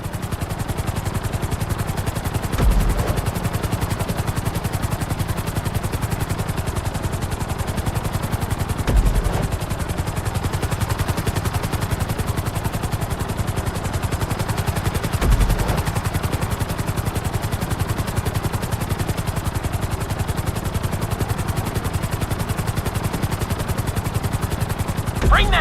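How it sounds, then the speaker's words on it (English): A helicopter in GTA V drones with a steady rotor whir and engine hum throughout a flight-school landing, joined by occasional brief low thumps, with no speech. "Bring the helicopter down gently onto the helipad."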